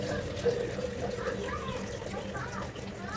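Water is poured into a pressure cooker over washed chickpeas, a close, continuous splashing fill that runs the whole time while someone talks over it.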